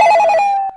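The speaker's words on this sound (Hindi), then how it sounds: "इतनी रात को फोन किसका आ रहा होगा?" A telephone bell rings loudly and alone at night in a home, one steady ringing burst that cuts off abruptly.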